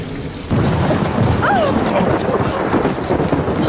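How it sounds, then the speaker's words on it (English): A thunderstorm with heavy rain, a dramatized storm effect, opens quietly and then surges into a loud, sustained roar of rain and rumbling thunder that carries on to the end. "The lightning had hit the huge old oak tree in the garden."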